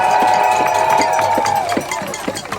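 Rally crowd demanding a ceasefire cheers and makes noise, with rhythmic claps or thumps and whistle-like tones over a dense, loud mix of voices.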